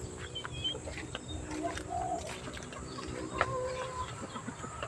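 Chickens cluck and coo close by amid a noisy farmyard background, with scattered bird calls rising over a steady hum.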